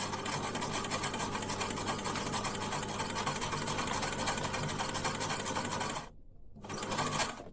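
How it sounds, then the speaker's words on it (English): A sewing machine stitches a scrunchie made from microfibre towel fabric, running in a steady, close mechanical whir for about six seconds, then pausing briefly before starting again for a short reverse stitch. "I start sewing and then go back so I can fasten it"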